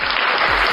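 Audience applause at the close of an informal talk, a steady dense wash of clapping filling the whole short moment without pause.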